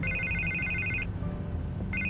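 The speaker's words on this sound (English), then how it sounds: "I can't get the phone to stop ringing." A telephone rings in a Batman video game, two bursts of electronic trilling over a low background hum, the second starting near the end.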